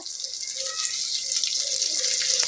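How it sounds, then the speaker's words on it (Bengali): Water used to rinse the marinade bowl is poured into a rui fish curry. A steady, close stream of running water splashes continuously throughout the clip, with no voices. "এখন আমি দিয়ে দিচ্ছি যে বাটিটার মধ্যে মাছটাকে ম্যারিনেট করে রেখেছিলাম সেই বাটি ধোয়া জলটা"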